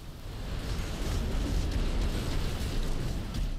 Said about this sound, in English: Oh geez, the missiles.